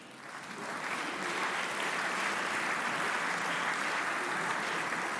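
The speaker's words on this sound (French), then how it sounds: "vous pouvez applaudir" Steady, sustained applause from a large audience in the French Senate chamber, swelling quickly and holding at full volume.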